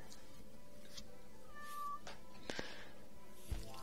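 A cat in RimWorld gives one brief meow partway through, over steady game ambience with a couple of sharp clicks and no talking.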